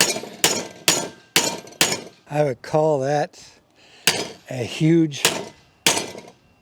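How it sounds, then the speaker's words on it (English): Repeated hammer blows strike a stick-welded aluminum piece, about eight sharp, loud metallic impacts in an uneven rhythm. Someone talks between the strikes. "Let me get a hammer."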